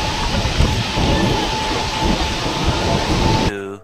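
Mumbai suburban train near Virar rumbles loudly and steadily with a broad hiss and rattle, close by, then drops away suddenly at the end.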